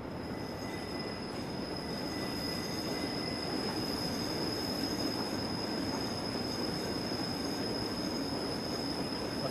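A passenger train on the Albula Line in Train Simulator 2016 rolls along the rails with a steady rumbling drone and a thin high wheel squeal, heard alone and unchanging from start to finish.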